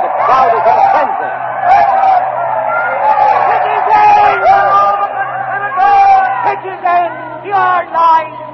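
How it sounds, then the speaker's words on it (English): A frenzied Roman crowd in a radio drama erupts in overlapping shouts and excited babble, many voices yelling at once in bursts that swell and fall over a low steady hum. "The crowd is in a frenzy."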